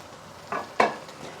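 Garlic dropped into hot oil in a pan with onions, giving two quick scraping stirs that set off a short sizzle over a faint background hiss.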